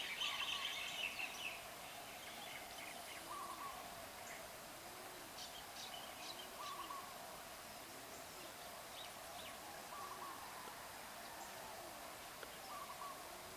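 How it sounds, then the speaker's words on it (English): Various birds and roosters call outdoors, faint and distant: repeated cooing notes and scattered chirps over a steady hiss of background noise. "we can hear the sounds of the various birds and roosters"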